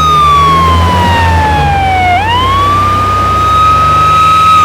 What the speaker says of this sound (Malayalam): ആ ആംബുലൻസ് ഒന്ന് ഒതുക്കിക്കോളി